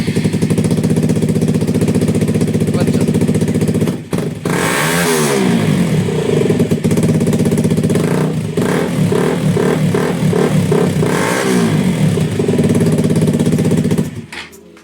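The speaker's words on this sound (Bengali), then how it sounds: "সবাই রিয়া এবার স্টার্ট করছে, দেখো এবার লাউডটা কতটা লাউড হতে পারে দেখো।" KTM RC motorcycle idling with its exhaust running without a dB killer, a loud, close, rough rumble broken by several sharp throttle blips that rise and fall in pitch before cutting off at the end.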